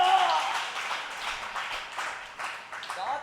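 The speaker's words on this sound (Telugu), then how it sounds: "చప్పట్లు కొట్టండి గట్టిగా." A church congregation at an all-night prayer service claps loudly and steadily, a dense wash of applause filling the room throughout.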